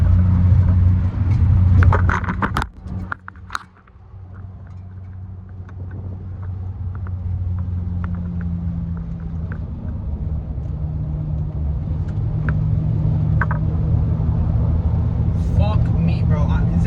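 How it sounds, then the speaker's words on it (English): Steady low road rumble inside a moving car on the way to the gym, with light traffic outside, continuous under someone talking throughout. "There's actually a slight bit of traffic"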